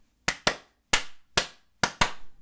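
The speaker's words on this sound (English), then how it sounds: "Everyone claps together." People in a group setting clap together, giving six sharp, close claps in an uneven rhythm with short silences between them.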